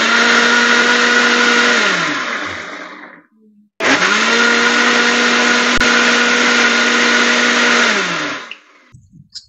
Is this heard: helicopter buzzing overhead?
no